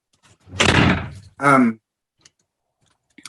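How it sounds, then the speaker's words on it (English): An indoor door is pushed shut, a brief rushing swing followed by a solid close-range thunk, then near silence with a few tiny ticks. "1 second, I'm going to shut the door."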